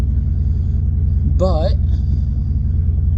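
A 1984 car with a 670 Holley 4-barrel carburetor and 122,000 miles runs with a steady low engine rumble heard from inside while driving, under a brief spoken word.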